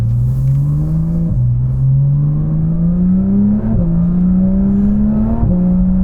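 A loud, close Porsche 992 GT3 Touring with a naturally aspirated 4.5-litre engine pulls hard in sport mode, revs climbing steadily through three quick upshifts with no voices over it.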